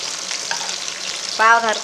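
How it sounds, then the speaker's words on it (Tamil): Onion and chili frying in a pan before bitter gourd goes in, a short close sizzle with a brief stir or clatter near the end, no talk. "பொன்னிறமாக வரவும் பாவக்காயை போட்டு இதிலேயே ஃப்ரை பண்ணுவோம்."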